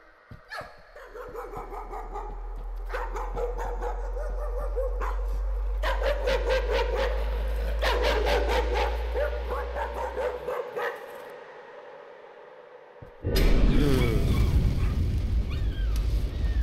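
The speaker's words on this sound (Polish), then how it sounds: "Pies! Pies!" Dog barking inside the horror video game Layers of Fear, a series of repeated barks over eerie game ambience and a deep drone, loud and close, ending in a sudden harsh noise burst.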